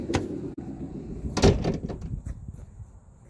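Sliding side door of a 2019 gas Mercedes-Benz Sprinter van rolling open, heard close up as a rumbling slide with a sharp clunk midway and rattling bumps before fading, with no talk.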